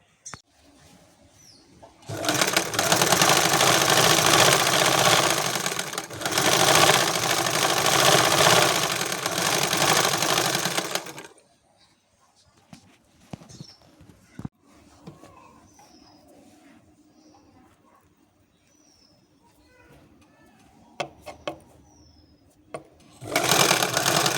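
A sewing machine runs a dress alteration in two loud, close bursts of rapid whirring stitching, the first longer, a short pause between them, followed by a quiet stretch with faint bird coos, small handling clicks and the motor starting again at the end.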